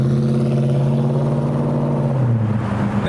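A muscle car revving hard and accelerating, a loud, close, rumbling engine note that climbs in pitch and then shifts lower near the end.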